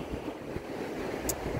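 Low, gentle ocean waves washing steadily onto an Outer Banks beach, a soft continuous surf wash with some wind noise, no voices.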